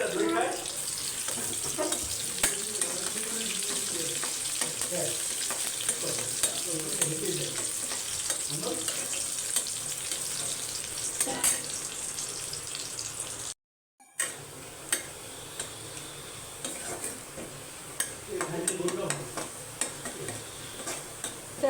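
Garlic fries in a pan with a soft, steady sizzle, punctuated by light spatula scrapes and clinks, and a brief gap of silence midway.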